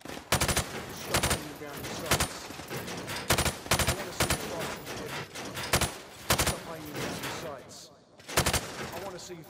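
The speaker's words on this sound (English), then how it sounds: "Shooting the targets while firing from the hip" Hip-fired gunfire in Call of Duty Modern Warfare Remastered rings out in rapid, loud bursts of shots, repeated every second or so against a busy game soundscape with a voice talking underneath.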